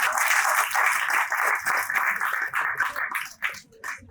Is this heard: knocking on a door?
no